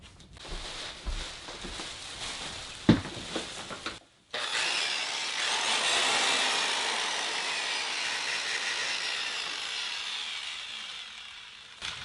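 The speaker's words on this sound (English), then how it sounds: "So I'm just going to use automotive compound, which works just as well. So we'll give this a try, have it using a polisher." A polisher with automotive compound runs on low speed over a wooden surfboard, a steady whirring hum with soft rubbing grit that settles in after a few seconds of scattered handling noises and continues evenly.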